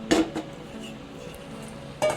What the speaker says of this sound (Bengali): ডবল ফ্রাই করার জন্য একটা অন্য কড়াই বসিয়ে দিয়েছি।